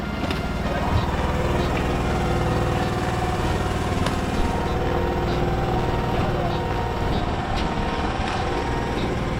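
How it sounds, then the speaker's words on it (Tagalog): A fishing boat's engine warms up with a steady, droning low chug running continuously, loud and close, with people talking faintly underneath. "magpapainit na ng makina"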